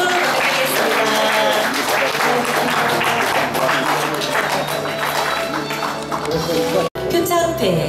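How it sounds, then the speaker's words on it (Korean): A ceremony audience at a gender equality week event in Jecheon breaks into loud, sustained applause, a dense roar of clapping that holds steady for several seconds, briefly cuts out, then resumes just as strongly. "큰 박수 드리겠습니다."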